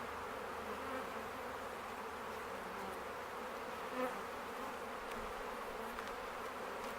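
Honey bees drone in a steady, dense buzz around an open hive being split, close and continuous, with no voices.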